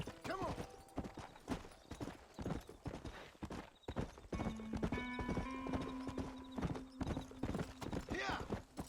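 Horse hooves clip-clop in a steady rhythm in the Red Dead Redemption video game, close and clear, with a horse whinnying and someone talking over the riding.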